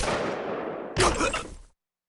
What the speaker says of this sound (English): That sounded like a ま gunshot